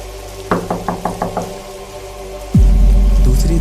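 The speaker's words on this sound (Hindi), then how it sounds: "दूसरी दस्तक ज्यादा जोर से थी, इस बार जानकर लगाई गई थी।" Six loud, deliberate knocks on a door come in an even rhythm over a low steady rain-like hiss, then a heavy booming rumble swells in and holds.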